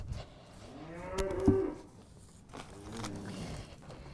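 Cattle moo, a deep drawn-out low call near the middle followed by softer lowing, over faint outdoor ambience.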